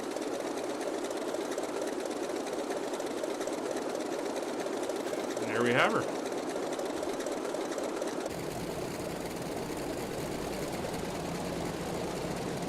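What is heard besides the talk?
Grumman F3F radial engine running, from a flight simulator video game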